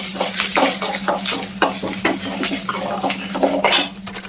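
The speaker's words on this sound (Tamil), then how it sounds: "நம்ம கட் பண்ணி வச்சுருக்கிற பூண்டு அது கொஞ்சம் நல்லா வதங்கணும்" Chopped garlic sautés in a pan while a utensil stirs and scrapes briskly, producing loud, close metallic scrapes over a constant sizzle and a low steady hum, without any voices.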